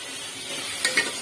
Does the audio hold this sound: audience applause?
no